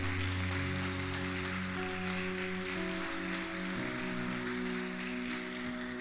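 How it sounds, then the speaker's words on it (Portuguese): A church congregation applauds after a baptism, a dense, steady wash of clapping that holds for several seconds over a sustained musical tone, with no talk on top. "Cara, você pode aplaudir?"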